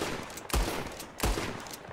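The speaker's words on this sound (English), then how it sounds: "There's shooting going on," Gunfire in a video game comes as two sharp bursts about a second apart, loud and close against a low background rumble.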